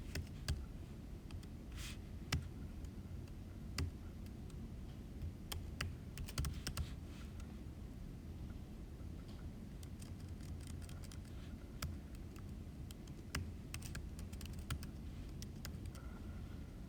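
Quiet, steady clicking of fingers typing on a computer keyboard, a run of soft keystrokes with occasional sharper taps and short pauses, sounding alone.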